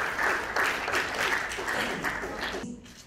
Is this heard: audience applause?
yes